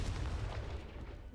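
A Confringo spell blast in a Harry Potter video game bursts as a dense, rumbling boom, loud and close, fading slowly over a second or so with no voices over it.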